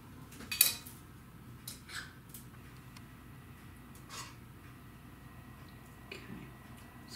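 Lemon white-chocolate cheesecake mixture is spooned into filled cupcake liners, giving light clinks of a spoon against bowl and tins, with soft scrapes and taps spread irregularly over a quiet room and no talking.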